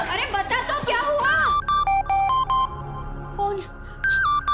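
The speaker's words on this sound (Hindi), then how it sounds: "फोन।" A telephone rings in a family home with a repeating electronic melody of short tones, right after a burst of voices talking.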